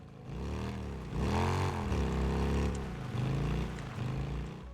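A realistic motorcycle engine in a video game, revving up and down continuously with rising and falling pitch sweeps, loud and close throughout with no talk.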